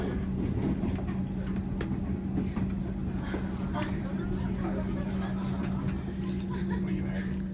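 A commuter train rolls through Melbourne, Australia, with a steady low rumble and hum of the carriage and occasional clicks from the track, heard from inside under ongoing talk.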